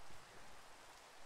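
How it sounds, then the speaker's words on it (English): Rain in Minecraft, a soft, even hiss of falling drops, faint and steady throughout with nothing else over it. "It's starting to rain."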